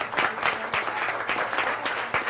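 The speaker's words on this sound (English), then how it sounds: "We didn't get applause for Bob Jordan." A live festival audience at a cartoon caption contest breaks into applause, a moderately loud patter of many hands with some distinct individual claps standing out near the listener.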